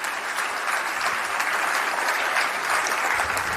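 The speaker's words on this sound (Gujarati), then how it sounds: "તમામ કલાકાર મિત્રોને પણ તાળીઓથી મિત્રો આપણે" Audience clapping at a youth festival, dense sustained applause from a large crowd that fills the whole stretch evenly and loudly with no talk over it.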